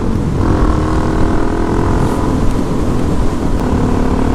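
Motorcycle fitted with a Yoshimura RS3 exhaust riding along a country road, a steady loud engine drone with wind rush heard up close throughout, holding an even throttle without sharp revs.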